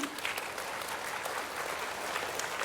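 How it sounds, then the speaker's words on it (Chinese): A seated audience at a health talk applauds steadily, a dense, even wash of many hands clapping that holds at constant loudness throughout, with no voices on top. "各位鼓掌！"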